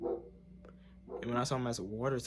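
A pet dog barks in a few sharp yips indoors, close to the microphone, overlapping a man's speech.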